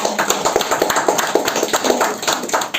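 Quick, scattered claps patter close by for a few seconds, a light round of applause from a small group at a church Sunday school.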